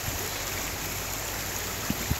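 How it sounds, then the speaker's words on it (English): A stream swollen by heavy rain rushes under a street, a steady broadband roar of flowing water, close and continuous, with a couple of faint knocks near the end. "this is the first place where the stream goes underneath of the street"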